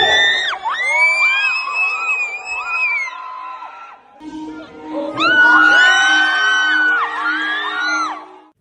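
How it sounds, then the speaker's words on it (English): Crowd of fans at a fan meet screaming and whooping wildly in two long loud surges with a brief dip between, dense high-pitched shrieks close and overwhelming. "he pumps his fist into the air in a victory position, and the crowd goes wild"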